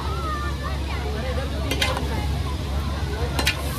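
Noodles being mixed with sizzling at a busy outdoor Diwali festival food stall in Virar, steady frying hiss and stirring scrapes with a couple of sharp metallic clinks, under crowd chatter.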